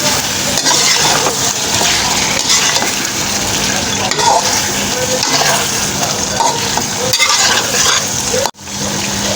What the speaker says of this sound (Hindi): अब हम इसको अच्छे से 5-7 मिनट भूनेंगे।